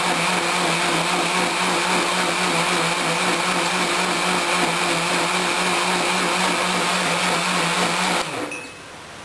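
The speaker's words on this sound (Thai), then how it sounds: "ต่อไปเราจะต้องปั่น พื่อให้มันเกิดความละเอียดค่ะ" A blender runs steadily, whirring loud and close as it grinds a batter mixture until fine, then cuts off abruptly near the end, leaving a quiet room.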